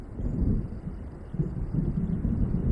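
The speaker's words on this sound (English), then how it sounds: "It seems there's a storm coming." Thunder from an approaching storm in the video game Alan Wake Remastered rumbles low and continuously, swelling unevenly over a few seconds.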